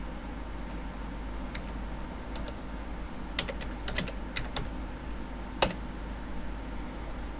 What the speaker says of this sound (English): We're going to type DISKPART.